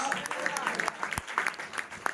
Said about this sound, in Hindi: जोर से ताली बजाकर हमारे प्रिय का स्वागत करें